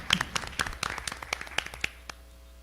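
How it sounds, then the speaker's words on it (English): Sparse, quiet clapping from a small audience at a school board meeting, a few dozen distinct hand claps in irregular rhythm that thin out within about two seconds. "So let's give him a round of applause as well."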